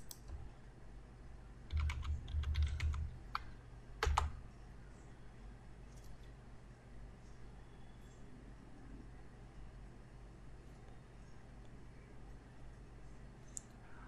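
A run of computer keyboard typing while a word is entered into an image search box, a short cluster of quick, moderately close key clicks near the start, then a few isolated clicks, followed by quiet room tone.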